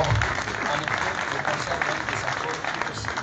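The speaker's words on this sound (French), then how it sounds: "Applaudissements très fort." An audience applauding at a Congolese music concert, dense sustained clapping from a crowd filling the space at moderate volume, steady throughout with voices faintly mixed in.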